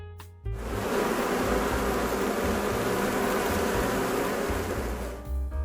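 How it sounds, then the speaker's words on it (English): Dense, steady buzzing of many bees swarming close by, loud and continuous for several seconds with no voices. "a loud buzzing filled the air."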